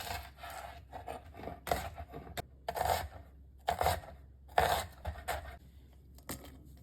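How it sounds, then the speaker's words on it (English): A knife slicing half an onion lengthwise on a board for a salad: a series of close, crisp cuts and scrapes in irregular bursts, fairly quiet, with no talking. "Cut half of onion lengthwise."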